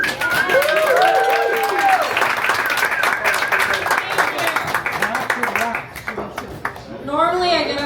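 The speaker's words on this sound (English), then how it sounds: "Give a warm round of applause for Ashley Lust." A comedy club audience applauds as a female comic is introduced, a loud, dense wash of clapping mixed with crowd voices and a few shouts, tapering off toward the end as the noise thins out.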